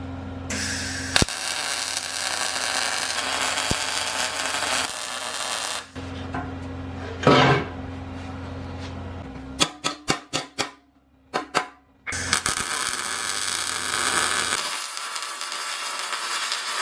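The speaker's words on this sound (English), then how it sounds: "I'm just going to start with a tack on all the corners to make sure everything's good, and then I'll go and stitch weld it." MIG tack welds on the corners of a weld-in subframe reinforcement kit for a Nissan 240SX S13: long stretches of steady, crackling arc hiss broken by a cluster of short, sharp pops, heard up close with no talking.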